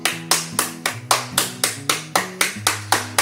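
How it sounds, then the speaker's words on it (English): Hands clapping in a steady rhythm, about a dozen sharp, close claps spaced evenly over a few seconds, with faint low tones underneath. "I'm sorry for clapping because it can be horrible to people in the headphones"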